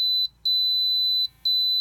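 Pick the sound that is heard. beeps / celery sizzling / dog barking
beeps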